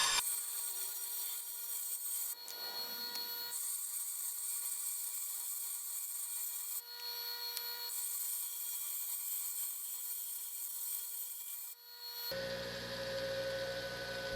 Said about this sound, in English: I'm going to grind an angle on the end so both parts just touch in the center